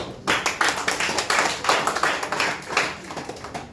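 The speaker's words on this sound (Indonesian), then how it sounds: "Tepuk tangan" A classroom of students claps together in a quick, uneven patter that lasts a few seconds and fades slightly at the end.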